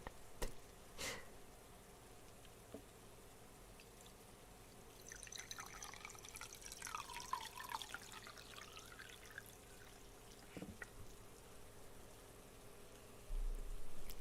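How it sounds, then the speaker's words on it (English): Water is poured into a container in a quiet room: a soft, trickling splash of a few seconds that rises and fades, set apart by isolated taps before and after. "I'm gonna put the water in here."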